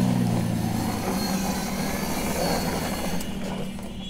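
A small toy jeep car runs along, giving a steady mechanical whirring and ratcheting gear noise with a low motor hum, close and continuous before easing slightly at the end.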